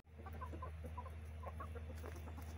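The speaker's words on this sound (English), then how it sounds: "it looks like Romeo is being a good rooster." Chickens cluck in short bursts over a steady low hum, with a rooster among the flock in a backyard coop; the clucks are moderately close and continue throughout.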